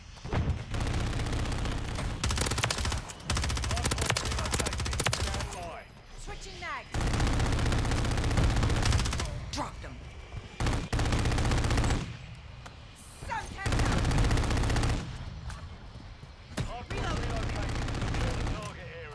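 Dense, loud automatic gunfire in Call of Duty: Modern Warfare III multiplayer, with an HRM-9 submachine gun and other weapons firing in long rattling bursts and brief pauses, while a player talks over the action.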